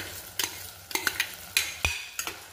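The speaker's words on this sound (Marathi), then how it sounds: "तर हे परत 1-2 मिनिटं परतून घ्यायचे असेच मसूर सोबत" Washed rice and whole masoor lentils sauté in a pan, a soft sizzle cut by sharp scrapes and knocks of a spoon against the pan in quick bursts, close up with no voices.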